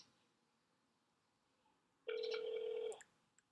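A telephone rings once: a single loud, steady electronic tone lasting under a second after a quiet start, followed by a faint click.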